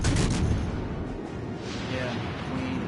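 Naval gunfire booms and rumbles from a World of Warships Legends battle, a dense, continuous wash of cannon blasts heaviest at the start, with a player's voice talking over it.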